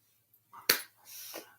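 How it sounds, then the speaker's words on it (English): A single sharp hand clap, loud and close, cuts in right after a brief breathy noise and is followed by a short murmur of voice. "There's the clap."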